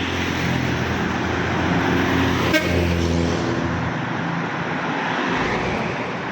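JRG bus rushes past on a road toward Banda Aceh in the morning, a loud continuous roar with a short horn toot in the middle, the noise fading as it moves away.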